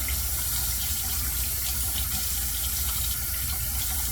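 Steady running tap water pours without a break into a sink while a razor is rinsed mid-shave, a close, full and continuous splashing rush with no voices.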